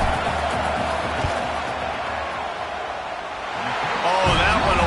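A football stadium crowd roaring during a field goal attempt, a steady, dense wall of distant noise that swells louder near the end.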